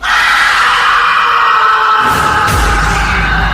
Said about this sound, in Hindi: एक चीख सुनाई दी